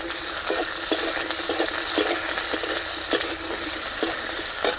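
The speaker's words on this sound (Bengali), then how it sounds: "আলুয়ার সিম খুব ভালো করে ভাজা হয়ে গেছে" Diced potatoes and flat beans fry in a pan with a steady bright sizzle, while a spatula scrapes and taps the pan in a regular rhythm of sharp strokes close by.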